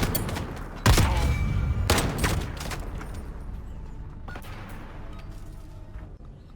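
Gunshots in a 1v1 video game gunfight tournament: a loud burst of fire, then several sharper cracks spaced over a few seconds, tailing off into a softer rumble of game noise.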